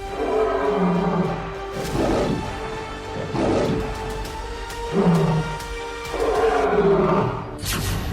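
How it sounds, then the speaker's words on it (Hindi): Lions roaring repeatedly at a lion safari in Etawah, a series of deep, loud roars rising and falling in steady bouts with no talk. "वहां से बब्बर शेरों की दहाड़ सुनाई दे।"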